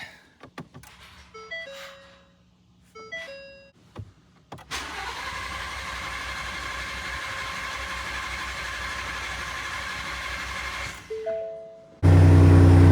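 A Ford F150 with a 3.5L EcoBoost and custom upgraded turbos cranks over a few times with short pauses between attempts, then catches and runs at a steady, loud idle for several seconds, with a sharp louder burst at the end.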